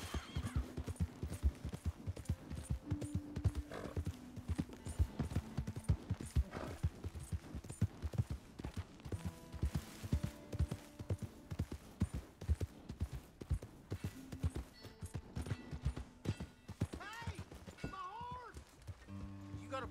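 Horse hooves clip-clop in a quick, steady trot throughout in the video game Red Dead Redemption 2, with scattered thuds and a faint whinny-like sound near the end.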